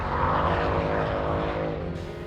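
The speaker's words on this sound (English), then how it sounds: "I just cannot resist this version's crazy snarl" A Mercedes C63 AMG with a 6.2-litre naturally aspirated V8 snarls at high revs above 6,000 RPM, a loud, rasping roar that holds steady and close throughout.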